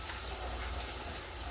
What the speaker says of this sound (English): So I'm going to start deep frying this